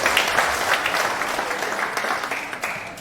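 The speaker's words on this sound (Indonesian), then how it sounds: "Kita berikan tepuk tangan, Pak." Crowd at a regional FGBMFI convention in East Java applauding, a dense, even burst of many hands clapping that tapers gently across three seconds with no voices on top.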